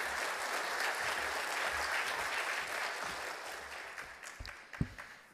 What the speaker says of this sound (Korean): 우리 큰 박수로 하나님께 감사한 마음으로 또 환영하도록 하겠습니다.